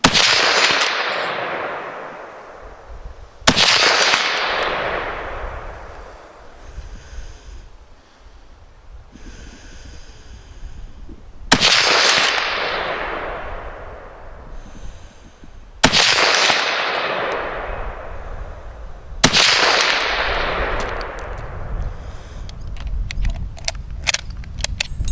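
A Mk III* SMLE rifle fires five sharp, loud rounds spaced several seconds apart, each crack followed by a long reverberating tail and faint clicks and clatter between shots.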